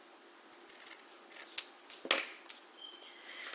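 Scissors snipping through tutu material, several quiet close cuts with one sharper snip partway through, no speech.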